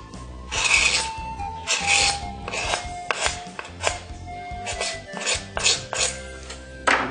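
Scraping and rasping strokes as the edge of a PVC pipe is trimmed for a homemade pan flute, a close series of repeated cuts with hard scratchy attacks and small knocks, no talking.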